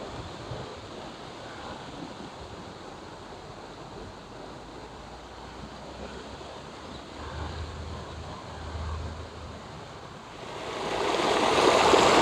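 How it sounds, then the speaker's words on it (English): Water runs in a garden water feature at the Orchid Garden in Singapore, a soft continuous trickling and rushing that swells noticeably louder and closer near the end. "It's always nice to hear the sound of water in the garden."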